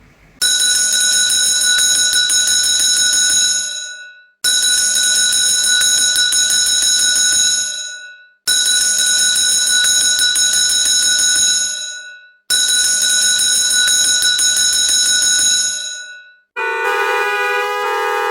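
A bell rings loudly in four long, evenly spaced strikes, each decaying over about four seconds, followed by a brief burst of a different harsher tone.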